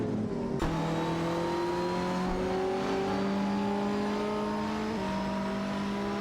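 Race car engines, including a Radical RXV and a McLaren 675 LT in a racing video game, drone at a steady high pitch, with several cars layered together and shifting tones as they hold speed.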